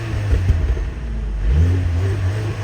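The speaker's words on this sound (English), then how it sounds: "I need you guys to hear this exhaust" The exhaust of a 2024 Mercedes-AMG GLA 35 rumbles and rises as it accelerates on the road, a steady, close, loud engine drone with no talk.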